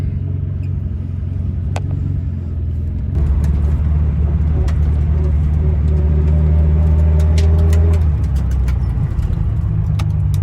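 A Toyota Celica TA22 with a 2TG engine and modified exhaust driving, its low engine rumble steady and close, swelling louder after a few seconds as the car pulls away, with light rattles and no talking.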